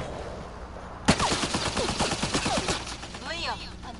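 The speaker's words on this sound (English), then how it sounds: "Let's shoot it." Rapid automatic gunfire in the video game Mass Effect Andromeda breaks out after a quiet moment and keeps going as a loud, dense burst, with a short voice or effect near the end.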